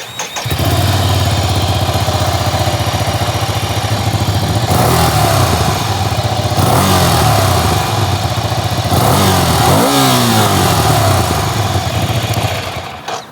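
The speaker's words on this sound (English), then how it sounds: "You probably want to hear what it sounds like, so let me fire it up." A 2023 Ducati Scrambler Icon twin fires up and idles loudly up close with a deep throbbing beat, then is revved several times, each blip rising and falling away, before settling back to idle and shutting off.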